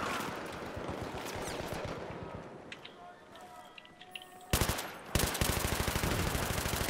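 Machine gun fire in the Battlefield 3 shooter game rattles in rapid, dense bursts, with a sharp, loud volley breaking out near the end over ongoing battle noise and some talk.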